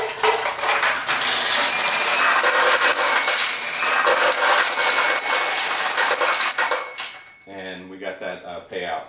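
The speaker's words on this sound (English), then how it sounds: "that's the louder noise you hear as the balls fall down and hit that tray" Nishijin pachinko machine paying out, balls pouring down and clattering into the metal tray in a dense, loud metallic rattle that runs several seconds before stopping, followed by a short stretch of talking.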